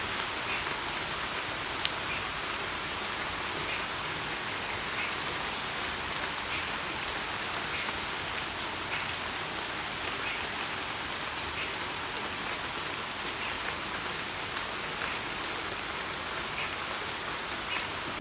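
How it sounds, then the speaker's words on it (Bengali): Steady rain pours down on a hot morning, a dense, even hiss of drops on surfaces lasting throughout with no voices. "হঠাৎ করে বৃষ্টিটা নামলো"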